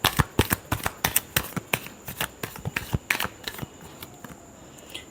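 Tarot cards are shuffled close by in a quick series of sharp riffling slaps and flicks that come in an uneven rhythm for several seconds.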